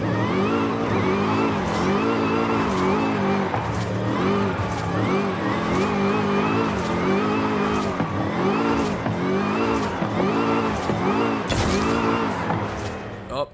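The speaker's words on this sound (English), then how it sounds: "What I might do is just try some drifting with this car down the mountain." A car in the Forza Horizon 5 racing game drifts down a mountain road, its engine revving hard in repeated rising and falling sweeps and bouncing off the limiter, loud and continuous.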